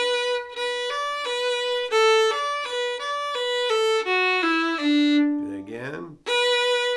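A fiddle plays the first half of the old-time tune "Crook Brothers Breakdown", with quick bowed notes and slurs sounding close and clear, followed by a brief voice near the end.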